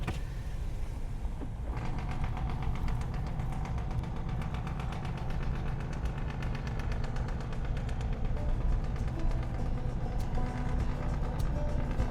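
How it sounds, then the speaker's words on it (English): A 2025 Chevy Silverado 2500 HD truck engine drones steadily at low speed while engine braking on a gravel road, with rattling and rumbling from the road, continuous and fairly close, with no talking. "definitely got some engine braking going on."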